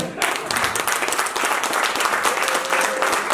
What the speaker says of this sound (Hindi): जिसको पैसा कमाना है वो तालियां बजा सकते हैं।